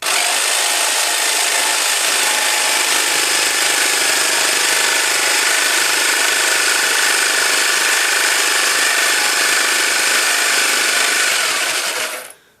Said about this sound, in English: So before I switch on the machine, fully engage the saw blade into the cutting slot.